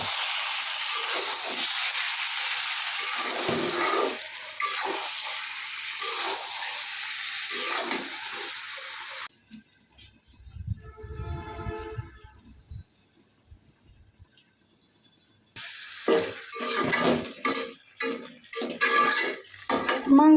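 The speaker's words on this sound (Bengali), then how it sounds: "আবার একটু নাইড়া দিই, একটু ঘন ঘন নাইড়া দেওয়া লাগবে।" Meat being stirred often in a karahi while it browns, metal spoon scraping and clattering against the pan over a steady sizzle, with a quieter stretch midway before the vigorous stirring resumes.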